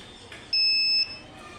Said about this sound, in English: If we touch it, it will give alarm sound